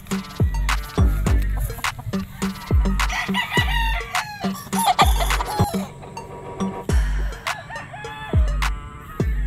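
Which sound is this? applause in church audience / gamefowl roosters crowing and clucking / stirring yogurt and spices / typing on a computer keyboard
gamefowl roosters crowing and clucking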